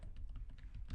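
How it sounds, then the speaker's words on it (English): Keys clatter on a computer keyboard in a quick, uneven run of close, light clicks, with no voices. "I'm just gonna type the application name"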